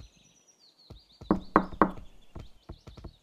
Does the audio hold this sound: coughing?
no